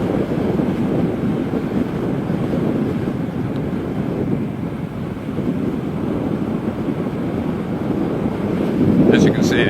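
Steady roaring wind buffets the microphone while riding a Macrais Z8X at speed, a continuous low rush that swells slightly near the end, with no other sound standing out.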